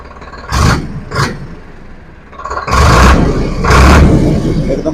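A Farmtrac 60 4x4 55 HP tractor engine revs in bursts: two short sharp blips, a lull at idle, then two longer, louder surges, recorded up close.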